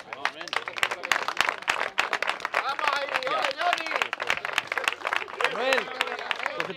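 A crowd claps for a sixth-place greyhound at a racing award ceremony in Villacañas, Spain. The sharp, uneven hand claps run throughout, close by, mixed with lively voices and chatter.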